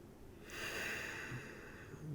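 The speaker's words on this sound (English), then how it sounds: "In and out through your nose, just relax into each breath." Slow, steady breath drawn in and let out through the nose during a relaxing morning yoga session, a soft airy rush that swells and fades, close and gentle with no talking.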